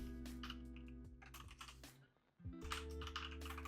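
Rapid clattering keystrokes tap on a computer keyboard, close and quiet, with a short pause before the typing resumes.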